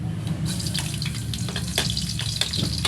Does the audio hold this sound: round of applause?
no